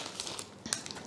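Bags of potato chips bought at Lidl crinkle as they are handled, a quiet, close rustling made of brief plastic crackles and crunches with no voices.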